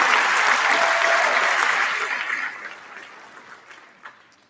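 Concert audience at a beginning band festival applauding the section coaches, loud full clapping that gradually thins and fades to a few lingering claps.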